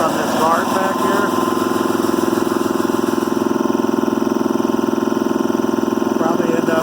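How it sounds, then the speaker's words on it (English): A 4.7 hp three-cylinder, single-stage 80-gallon air compressor runs loud and steady up close, its pump throbbing rhythmically with a tinny metallic rattle from a loose guard, and someone talks briefly over it at the start and end. "That tinny, rattling noise you hear is from this guard back here."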